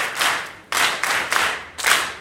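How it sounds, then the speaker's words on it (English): A school audience at a principal's address claps in short uneven bursts: several brief waves of hand clapping, moderately close, each fading before the next starts. "Give yourselves a round of applause"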